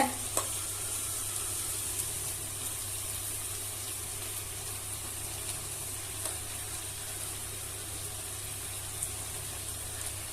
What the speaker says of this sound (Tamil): இப்போ இதுவும் நல்லா பச்சை வாசம் போவந்தேன்னு ஒரு நிமிஷம் வதக்கிக்கலாங்க